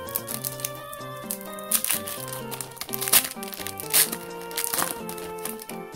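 Foil Pokémon card packs from a Champions Path pin collection are torn open and crinkled, a busy run of crackling plastic rustles layered over steady background music with no talking.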